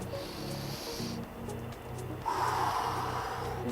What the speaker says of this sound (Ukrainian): Вдих. Через ніс. Видих через рот.